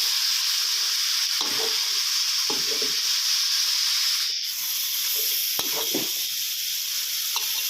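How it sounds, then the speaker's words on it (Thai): Chicken with curry paste and pickled bamboo shoots sizzles steadily in a pan, stirred in several bursts of scraping and tossing over a constant frying hiss, close and fairly loud. "ผัดคลุกเคล้าให้ทั่วนะครับเพื่อนๆ"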